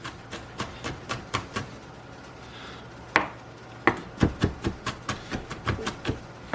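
A knife taps quickly and steadily on a cutting board, slicing garlic in a regular rhythm with a brief pause partway through.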